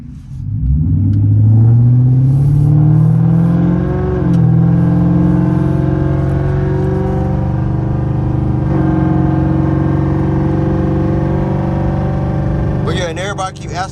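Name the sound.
car exhaust revving, catless with no mufflers and X pipe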